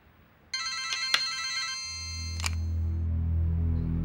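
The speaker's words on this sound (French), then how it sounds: "Maman, c'est ton téléphone qui sonne." A mobile phone rings with a bright repeating electronic tone in a quiet room, a few rings over a low background hum that swells toward the end.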